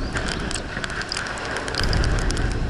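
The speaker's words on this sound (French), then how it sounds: "C'est la tempête, il y a 110 km/h de vent à peu près." Loud, roaring storm wind of about 110 km/h buffeting the microphone aboard a sailing boat at sea, a steady rush with a gust swelling toward the end.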